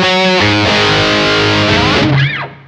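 Electric guitar through a Tech 21 PL1 Fly Rig pedal with boost and punch switch on; loud, crunchy distorted chords ringing out, ending with a sliding, bending note that fades, with no talking.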